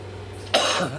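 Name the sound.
cough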